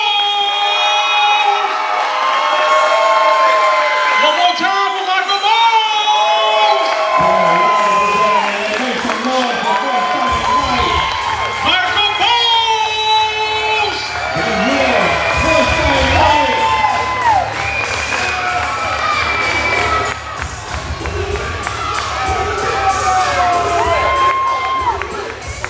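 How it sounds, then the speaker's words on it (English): Loud crowd at a high school ESPY awards ceremony cheering, whooping and clapping continuously for a named honoree, with voices and shouts layered over the sustained roar throughout. "We want everybody to stand and give a thunderous round of applause"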